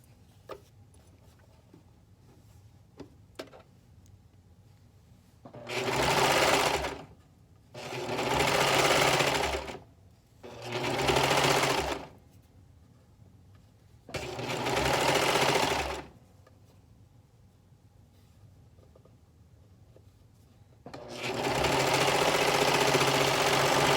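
Romper pieces are stitched on a sewing machine in five separate loud runs of motor whir, each lasting a couple of seconds, separated by quiet pauses and ending with a longer run.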